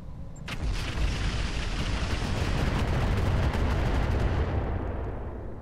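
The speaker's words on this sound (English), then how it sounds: "Let's drop some more incendiary on this guy." Incendiary weapons firing in the mech combat game Roguetech, a sustained loud roaring barrage of rapid detonations and crackling blasts that runs for several seconds before tapering off.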